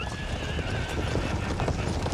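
Cavalry horses charge in the video game Empire 2, with rapid hoof clatter and whinnies in a busy battle din, while voices talk faintly underneath.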